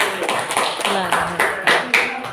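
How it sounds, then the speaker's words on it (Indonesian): Indonesian audience at a positive-culture dissemination session claps in a loose, rhythmic burst of distinct hand claps, fairly close, with faint voices mixed in. "Tepuk tangan dulu. Bapak Ibu."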